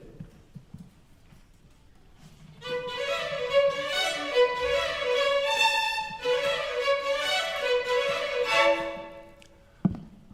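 Orchestral violins play a rhythmic Beethoven fourth-movement figure, a bouncy repeated pattern rising and falling at moderate volume for several seconds after a quiet start.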